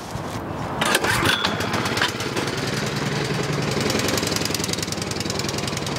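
An Ariens-type snow blower engine with a surging fault cranks on its electric starter on a cold start, catching after about a second and settling into a loud, steady running roar.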